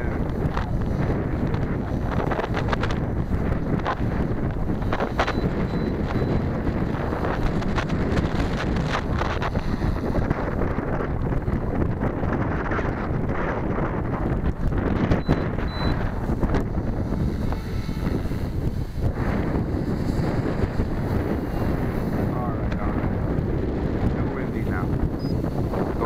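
Strong wind roars steadily across the microphone during a Warp 360 flight, a dense, continuous buffeting rumble that runs from start to end.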